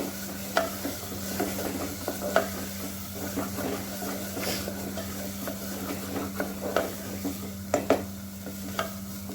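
Masala with turmeric being stirred and cooked in a pan for lauki kofta curry, a low simmering sizzle under a steady hum, punctuated by repeated spatula scrapes and taps against the pan.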